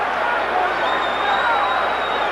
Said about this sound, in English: Right hand lead by Holyfield brought his supporters in the crowd out of their seats again